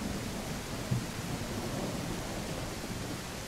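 Thunderstorm rain in the survival game Mist Survival, a steady, even wash of rain noise with a low rumble underneath, no speech.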